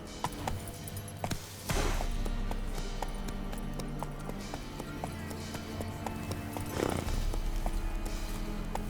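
Roach, a horse in The Witcher 3, gallops with steady rhythmic hoofbeats under a droning background, loud and close throughout with a couple of louder swells.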